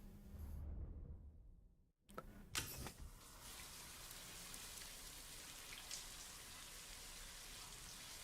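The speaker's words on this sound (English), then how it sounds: "Yeah, we need to use this shower." A shower in the PS5 video game Death Stranding 2 runs with a steady, soft hiss of falling water that starts after a brief cut and continues evenly, quiet and without speech.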